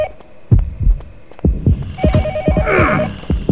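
A phone rings inside the Yomawari: Night Alone video game, a steady electronic trill over a heavy throbbing heartbeat pulse, loud and close with a burst of warbling tones.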